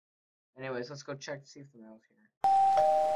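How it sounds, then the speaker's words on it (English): A person talks, then a loud electronic doorbell chime from a video game rings out twice, sustained tones cutting in sharply after the speech. "Oh, that's a doorbell?"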